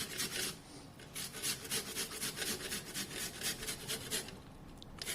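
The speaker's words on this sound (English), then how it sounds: "you have to take the grater and then start grating this onion" An onion rubbed against a hand grater, giving a steady run of rhythmic rasping strokes, close and fairly loud, with no talking.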